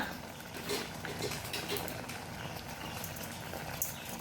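Mango curry with curry leaves simmering in a pot on the stove, a soft continuous bubbling and gentle popping that holds steady throughout at close range, with no voices over it.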